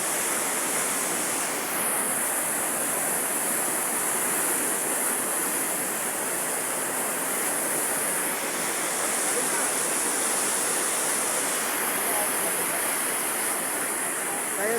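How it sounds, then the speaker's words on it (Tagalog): A powerful river near Banaue roars in a loud, steady broadband rush of churning water, continuous for the whole stretch with no pauses, close and dominant with no clear voices above it. "Ito yung ilog na nadaanan namin. Napakalakas."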